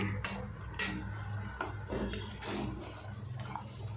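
Repeated scraping and clinking of a utensil against a metal pot, steady stirring strokes close by, with a low background hum.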